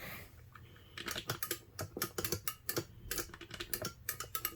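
The joystick and buttons of a Hori Fighting Stick Mini for Nintendo Switch click rapidly and irregularly up close, a dense patter of sharp plastic clicks.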